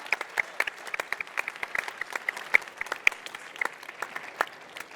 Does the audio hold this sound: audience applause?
yes